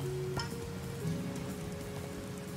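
Steady rain falls in the video game A Hat in Time, a soft, even patter beneath faint game tones and music, quiet and constant throughout.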